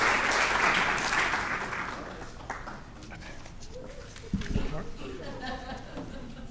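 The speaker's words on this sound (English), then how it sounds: "Let's get a big round of applause to everybody." A crowd at a 2021 Scouting recognition dinner applauds the award recipients, loud clapping at first that thins out over a couple of seconds into room chatter, a voice, and a few clattering knocks.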